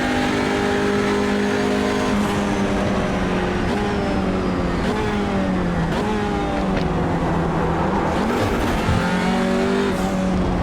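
Audi RS3 TCR race car in the iRacing sim on the Indianapolis road course, engine droning loudly with shifting pitch as it brakes and slides into turn one, with gear changes and revs rising and falling.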